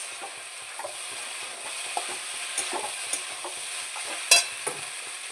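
Onions frying in a pan are stirred, a soft continuous sizzle broken by repeated scraping and clinking strokes of a spatula against the pan, with one sharper metallic clink.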